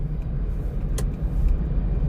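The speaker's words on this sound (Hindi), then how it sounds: "और इसलिए ट्रैफिक ज़्यादा है।" A steady low rumble of road traffic, heard from inside a moving vehicle on Chilla Road at night in Rajaji Tiger Reserve, with a brief click and a swell of passing vehicle noise near the end; no speech.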